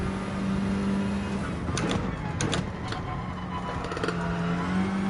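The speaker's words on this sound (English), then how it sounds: "Just trying to gauge these revs." Engine note of a car in Gran Turismo 7 during Manufacturer's Cup practice, a steady droning hum with brief higher rev bursts mid-clip, fairly quiet and without talk.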